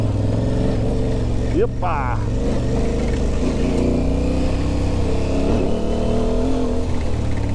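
An Aprilia Tuareg 660 motorcycle engine held in first gear on rough terrain, a loud, steady close-up drone that stays continuous throughout with small rises and dips in revs, and a brief spoken word near the start.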